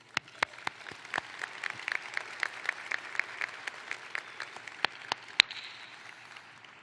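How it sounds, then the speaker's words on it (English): A graduation ceremony audience applauds family and friends, with scattered distinct hand claps over a soft, steady wash of clapping in a large hall, moderately quiet and without speech. "please join me in a round of applause for your family and friends"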